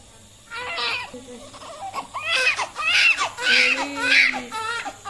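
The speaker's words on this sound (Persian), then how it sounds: "از اون بچه هایی که گریه میکنه و صداش هم بلنده." A newborn wails loudly in repeated rising-and-falling bursts, close by, with short breaths between cries.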